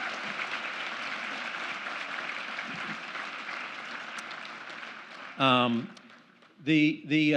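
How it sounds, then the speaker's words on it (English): Steady applause from a crowd fills the room for several seconds, then fades as a nearby voice begins speaking. "let's give a big round of applause for Jen Giovannetti."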